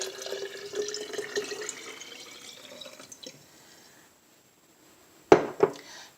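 Water is poured into a jar holding salt and stones, a trickling splash that fades over several seconds, followed by two sharp glassy clinks, with no talk.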